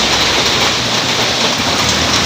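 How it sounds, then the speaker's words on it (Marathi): Steady, dense rain hiss fills the scene, with a low rumble of traffic passing underneath; no voices. "तसा पाऊस पडतोय गाड्या पण चाललेल्या आहेत"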